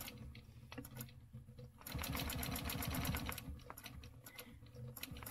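Sewing machine stitching a stencil quilt, running in rapid bursts of needle chatter with short pauses between, close and fairly quiet, with no talking.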